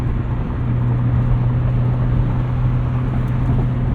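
1999 BMW Z3 M Roadster on the move, a steady engine drone with road and wind rush heard from inside the car, even and continuous without talk.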